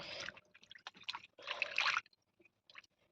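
Raw chicken being washed in hot water makes wet splashing and squelching, with bursts of dripping and sloshing, close and fairly quiet, then fading to a few faint drips.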